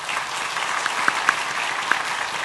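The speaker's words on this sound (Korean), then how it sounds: "인사하실 때에 우리 박수로 환영하겠습니다." Sustained applause from a Sunday worship congregation welcoming new families, a dense even wash of many hands clapping alone without speech.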